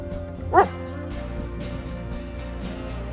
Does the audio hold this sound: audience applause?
no